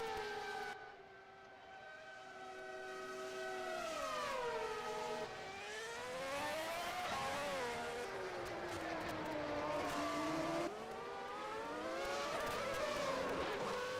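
Formula One race cars, including a Ferrari, racing at Spa in the 1994 Belgian Grand Prix, engines screaming at high pitch and rising and falling through gear changes as the cars pass, loud and continuous.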